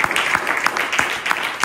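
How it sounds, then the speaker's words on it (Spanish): Church congregation clapping for the Lord during a sermon on prayer, a brief burst of rhythmic, fairly loud applause filling the room. "Denle otro aplauso al Señor."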